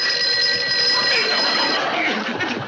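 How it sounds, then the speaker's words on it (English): An old-fashioned telephone bell rings continuously in a 1953 sitcom scene. The shrill ringing is loud and close, with faint background murmur beneath it. "it's only the phone"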